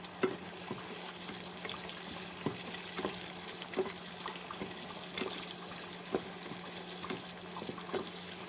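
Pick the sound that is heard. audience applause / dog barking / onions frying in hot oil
onions frying in hot oil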